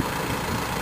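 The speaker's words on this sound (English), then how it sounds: "The tractor is always going to move at a slow rate" A tractor pulling a Princeton tree planter loaded with Green Giant saplings runs at a slow, steady pace, its engine a continuous low drone with no talk.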